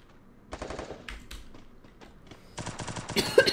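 Bursts of automatic rifle fire in a team shooter video game, rapid crackling volleys near and far, sparse at first and then a sustained, louder burst near the end.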